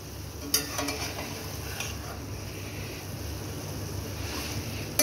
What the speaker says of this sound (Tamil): இது எல்லாத்தையும் சேர்த்துட்டு நம்ம லைட்டாக இதை ஒரு மிக்ஸ் பண்ணிக்கலாம்.